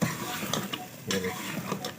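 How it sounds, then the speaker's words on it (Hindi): Round gourd (tinda) being stir-fried in oil in a pan, a steady crackling sizzle broken by several soft scraping stirs of a spoon, heard close with no talking. "इनको मैं अच्छे तरीके से भून लूँगा टिंडों को"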